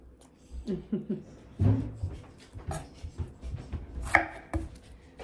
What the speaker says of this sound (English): I'm cutting up some strawberries